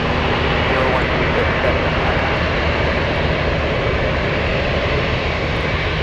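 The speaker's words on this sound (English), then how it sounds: "We have two 747s crossing runway 33." A Boeing 747 crosses a runway at Anchorage airport, giving a loud, constant jet engine roar that stays steady and fills the whole stretch, with a voice faintly mixed in.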